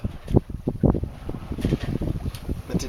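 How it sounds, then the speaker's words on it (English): Gusty wind buffeting the microphone aboard a sailboat at sea, uneven rumbling bursts rising and falling throughout with no voices. "Now the wind is picking up a little bit more"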